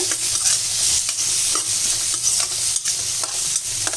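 Vegetables and coconut sauté in a pan for a lentil-ball curry, a close, bright sizzle broken by repeated scraping stirs, with no one talking.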